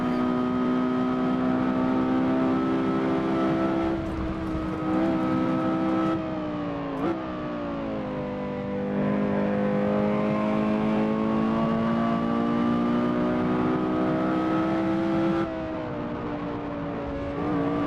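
Porsche Carrera GT in a racing video game, its engine holding a loud, steady high-pitched wail that sweeps down and back up through gear changes and throttle lifts, with no talking over it.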